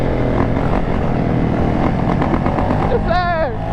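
A dirt bike engine drones and revs steadily nearby, a buzzing motor sound with a rising whine near the end, while people talk over it.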